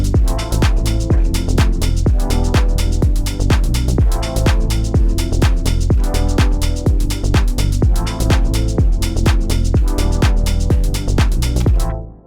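An FL Studio Peak Controller drives envelope-follower modulation on a music track, giving a steady, loud beat with rhythmic pumping pulses that run evenly for about twelve seconds before cutting off.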